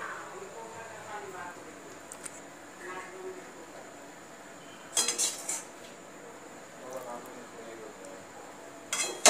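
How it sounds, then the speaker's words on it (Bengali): A spoon stirs fried brinjal mash into yogurt, giving soft, scattered clinks and scrapes against the bowl, with a few sharper metallic taps near the middle and end, all fairly quiet. "এই বেগুনের মণ্ডটা আমি ভালো করে মিশিয়ে নেব।"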